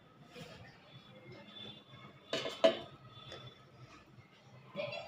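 Vegetable masala rice being served from a pressure cooker onto a plate: soft scraping and clinking of a spoon against metal, with one sharper clatter in the middle and quieter handling around it, close by and without speech.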